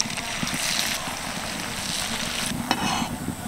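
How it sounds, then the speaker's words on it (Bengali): Nakshi pitha, decorated Bangladeshi rice cakes, fry in hot oil with a constant bubbling sizzle, close and even throughout, with a few faint clinks. "চলুন বাকিগুলোও আমি একইভাবে ভেজে নিই।"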